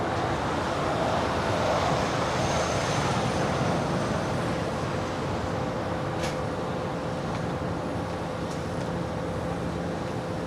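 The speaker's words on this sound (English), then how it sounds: "look at another Hawaiian A321neo making her way over here for Southside departure" A Hawaiian Airlines Airbus A321neo taxiing at Los Angeles International Airport, heard as a continuous, fairly loud broadband engine roar and rumble with a faint steady whine, unbroken for the whole stretch.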